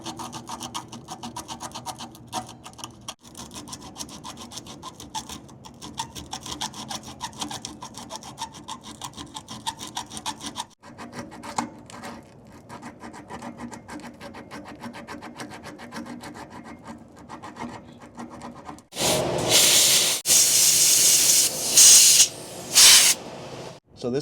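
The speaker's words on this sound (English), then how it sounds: "There's a set of 3 contacts in here that I'm gonna sand." Contacts inside a 1960 Pontiac's three-bank voltage regulator being sanded by hand, a soft, quick, close scratching rasp repeating for a long stretch, followed near the end by louder bursts of a spray or hiss.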